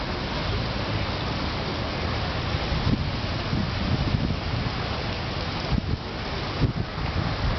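Wind drives the falling spray of Geneva's Jet d'Eau fountain, a steady broadband hiss of water droplets and gusts that holds at constant strength throughout, with a few brief louder swells.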